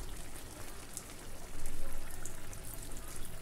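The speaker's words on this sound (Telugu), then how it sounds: "కొంచెం వాటర్ పోసి మూత పెట్టుకుందాం." Water is poured into a pan of coriander chicken curry, giving a faint, steady splashing trickle that swells briefly midway, with no talk.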